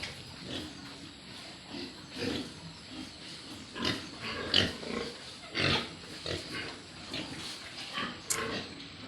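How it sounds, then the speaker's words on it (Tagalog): Pigs on a farm, grown from piglets, grunt and snort repeatedly in short irregular bursts at close range, over a low background hum with no talk. "Pig na ito ngayon, pig."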